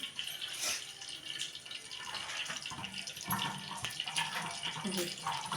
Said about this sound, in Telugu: గోరువెచ్చని నీళ్ళు అయితే పోసుకొని కలుపుకొని వేయించుకోవాలండి